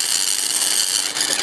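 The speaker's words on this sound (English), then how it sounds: "I can actually shave them sideways" A knife blade shaves plastic sideways while shaping a model locomotive chimney in a workshop, giving a steady, close, continuous hiss of scraping across the whole short stretch with no talking.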